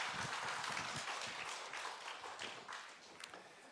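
An audience claps together in a church service, applause of many hands that is fairly steady and dense across the whole span, easing off slightly toward the end.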